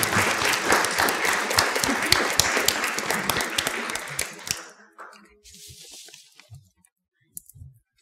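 A church congregation at a Sabbath service applauds loudly for about four seconds, the clapping thinning out and fading into near silence with a few scattered claps at the end.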